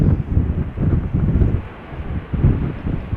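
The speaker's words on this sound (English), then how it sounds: "with wind blowing now from the southwest" Southwest crosswind gusting at Schiphol Airport, loud low rumbling buffets against the microphone, swelling and easing in uneven surges.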